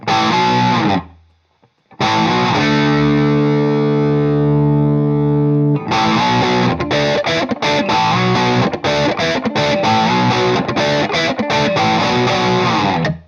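A heavily distorted electric guitar plays loud, gritty chords through an amp with an EQ pedal, with a sustained held chord before choppy rhythmic strumming resumes.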